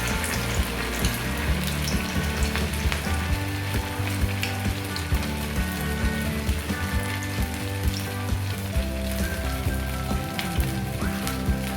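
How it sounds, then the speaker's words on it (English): Steady, dense sizzling of sabudana vada frying in hot oil, continuous crackle and spatter close by with no talking. "I'm frying the first one."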